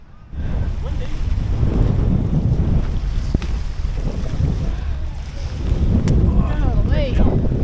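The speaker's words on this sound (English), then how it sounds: "Windy." Strong wind blowing while fishing from a boat, a loud steady rumble of gusts buffeting the microphone for the whole stretch, with a few faint sounds above it.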